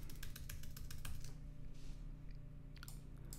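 Quick, even keystrokes tap on a Mac computer keyboard while a command is typed into a terminal, close and fairly soft, with a short pause near the end before a few more presses.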